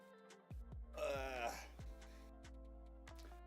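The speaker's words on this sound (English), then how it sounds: "let's get all the burps out" A single throaty burp rises in the middle of a short indoor stretch, moderately loud and close, with a few sharp clicks and handling knocks before and after it.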